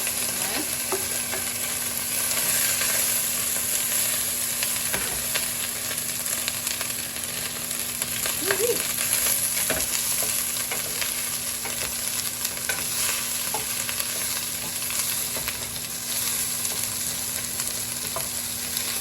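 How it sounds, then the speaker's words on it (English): Vegetables hit a hot, previously empty pan on a burner and sizzle steadily, a dense crackling hiss with occasional stirring scrapes, continuous and close with no voices. "Go ahead and toss my veggies in there."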